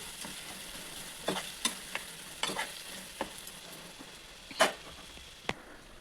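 Sliced bitter gourd fries in oil in a pan, with a soft continuous sizzle punctuated by scattered stirring scrapes and clicks of a utensil.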